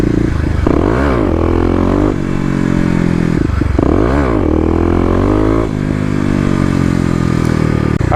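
A Kawasaki KLX250 dirt bike fitted with a 13-tooth sprocket roars close by during wheelies, its engine revving up and down in repeated rising and falling sweeps over a constant loud drone.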